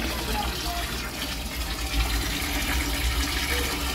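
Water gushes and splashes continuously while blankets are washed, a steady close pouring rush with no pause.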